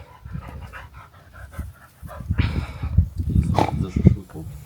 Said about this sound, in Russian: Собачка следит за процессом.